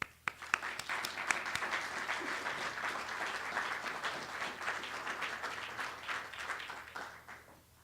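An audience applauds to welcome lecturer Dr. Christin Mamiya before an evening talk on Pop Art and domesticity. The clapping is sustained and fairly even for about seven seconds, with a few sharper claps at the start, and it fades out at the end.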